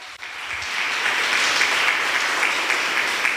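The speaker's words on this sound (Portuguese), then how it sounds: "Palmas para o Senhor, bem forte." A church congregation claps loudly during a worship service, a dense, sustained roar of many hands building quickly after a brief pause and holding steady.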